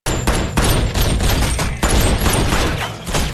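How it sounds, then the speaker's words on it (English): Rapid bursts of gunfire from thugs in an action movie, loud, dense and continuous through the clip, with repeated sharp shots and no talk. "the men spot her and open fire."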